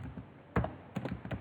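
Someone types a command on a computer keyboard in a Linux terminal, a brief, quiet burst of a few close keystrokes with uneven spacing and no talking.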